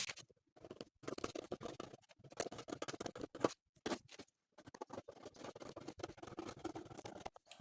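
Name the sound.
scissors cutting fabric for a corset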